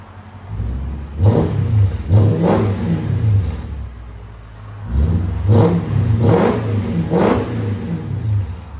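Loud, close Mercedes SL 550 5.5L V8 revving through a muffler delete with a deep exhaust growl: two sharp revs, a pause at idle, then two more throaty blips.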